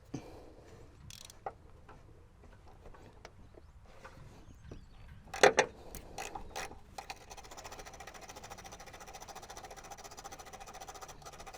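Ratchet working a 10 mm bolt on a 2007 Ford Focus 2.0 during tensioner and idler pulley replacement: scattered clicks and taps, then a sharp metallic clatter, followed by a steady rapid ratcheting buzz near the mic, no talking.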